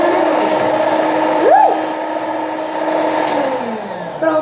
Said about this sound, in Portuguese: Vamos aproveitar a batedeira.